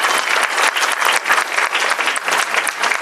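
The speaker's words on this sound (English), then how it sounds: "Again, a round of applause for these." Dense, loud applause fills a school board meeting room as the audience claps steadily for honored students and staff, a sustained even roar of many hands.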